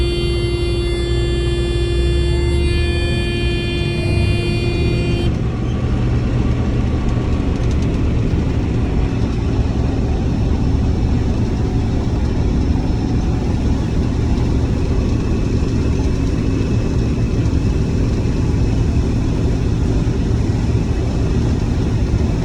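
A combine harvester at work in a soybean harvest drones steadily and loudly through the whole stretch, a dense low engine rumble with broadband mechanical roar and a whining tonal hum at the start that drops away after about five seconds.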